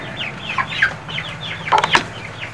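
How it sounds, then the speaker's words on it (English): Buff laying hens on a farm cluck close by in a string of short, separate calls, with a brief burst of louder clucks near the end and no talking over them. "These type of chickens are called buffs. They're a type of laying hen."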